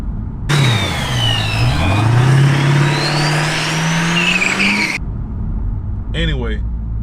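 A BMW F80 M3 with a straight-pipe exhaust revs loudly and close, the pitch climbing and dipping, then holding high for several seconds before cutting off abruptly; a voice follows briefly.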